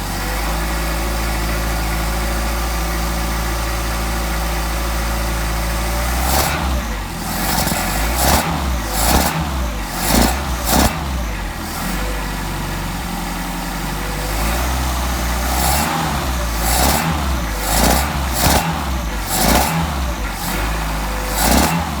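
A Mercedes 190SL engine with a Solex carburetor warms up, idling steadily with a low, even drone, then turns to a series of sharp throttle blips and revs in the second half. It is loud and close, with no talk.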